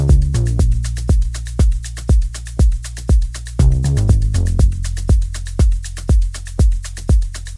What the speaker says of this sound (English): something I call the deep sustained bass